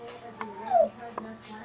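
A dirty pet dog gives a brief, rising whimper partway through, with short soft yips around it, heard close up over quiet talk and faint background hum.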